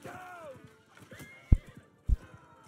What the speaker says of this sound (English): I think we just shot his horse to death.